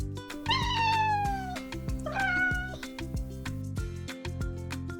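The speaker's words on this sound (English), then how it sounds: "Can you guess this animal? It's a cat." A cat gives two drawn-out, whining meows in quick succession, close and clear, over a steady ticking, plinking backing beat.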